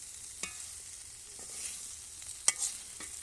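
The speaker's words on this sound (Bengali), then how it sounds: "কিছু দিয়ে এখন মশলা কষাইতেছি।" Spices fry in a pan for a dish of lotki with shrimp, giving a faint steady sizzle with a few short scrapes and taps of a stirring spoon at close range.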